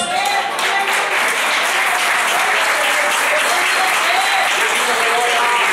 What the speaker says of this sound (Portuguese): Pode exaltar o Senhor com palmas